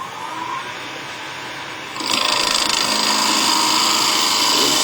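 A skew chisel cuts wood with its bevel riding flat, giving a steady broadband hiss and scrape that swells louder about halfway through and then holds continuous to the end, with no talking.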